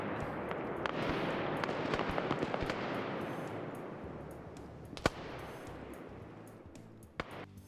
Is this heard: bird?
no